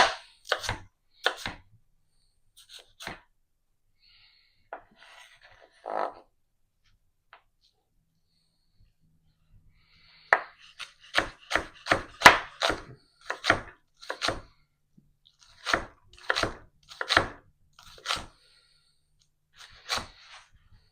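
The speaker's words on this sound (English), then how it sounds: "I'm just going to finely mince this onion" A knife finely minces an onion on a cutting board for mushroom risotto, with sparse chops at first and then a quick, close, irregular run of crisp taps.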